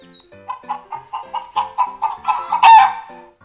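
Recorded chickens cluck from a Hafiz reading pen, a string of about a dozen short evenly spaced clucks, loud and close, ending in a sharper rising squawk.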